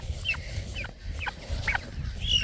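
Several chickens and other fowl on a farm give repeated short clucks and calls at close to mid distance over a steady low outdoor rumble, with no voices.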